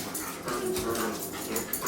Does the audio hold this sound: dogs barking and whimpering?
yes